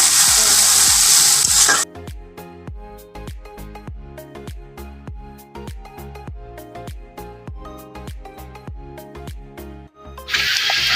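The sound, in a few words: frying onions stirred with bitter gourd seed paste in pan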